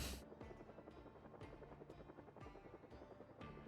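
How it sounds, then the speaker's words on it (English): Rhythmic thudding of an approaching helicopter's rotor in the video game Project Zomboid, steady repeating beats about every half second over a low engine hum, heard at a distance and fairly faint. "Oh shit, the helicopter's here. I can hear it."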